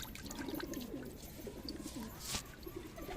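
Pigeons coo in a loft, soft repeated low throaty calls in steady phrases, close by over a faint background hiss, with one brief brighter rustle partway through.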